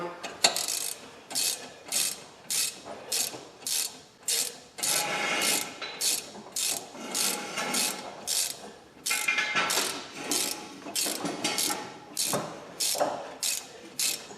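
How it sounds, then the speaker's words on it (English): A ratchet snugs front brake caliper bolts on a 2015–2022 Ford Edge, giving close, steady back-and-forth bursts of rapid clicking, about two strokes a second, with brief pauses between groups. "Now let's go ahead and torque these in and get them nice and cinched up."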